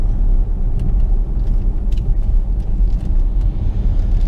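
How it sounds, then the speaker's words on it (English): Heavy road rumble from a vehicle in motion as a truck draws near, a steady loud low drone with faint higher hiss, an HGV run near Chepstow and the Severn Bridge. "there's a truck coming"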